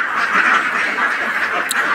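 A Jinding duck gives a close, loud, nasal quacking call held for about two seconds.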